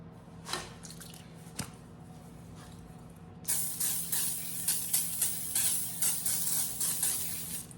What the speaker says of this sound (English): I have my cookie sheet and I'm going to spray it.